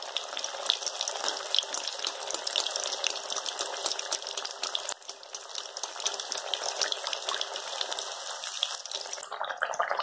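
Crispy potato bhaji frying in hot oil for a fasting snack, a steady, loud sizzle and bubbling crackle that runs without pause and thins out near the end.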